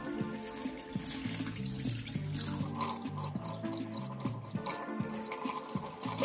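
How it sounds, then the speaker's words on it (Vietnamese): Running tap water rinses raw pork intestines as they are turned inside out and cleaned for blood sausage, a steady close splashing flow with squelchy handling underneath and no talk. "Mình sẽ dùng nước này để lộn phần bên trong để rửa sạch những cái."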